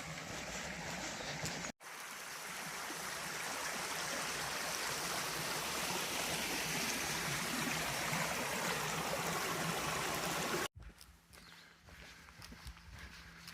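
Stream water flows steadily at a river crossing on the Uwharrie Trail, a broad continuous rush that fills most of the stretch and then drops to a quieter wash at the end.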